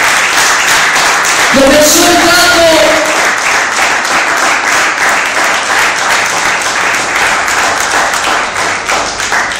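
A church congregation applauds loudly and without a break. Dense clapping fills the whole stretch, and a preacher's voice cuts in briefly over it.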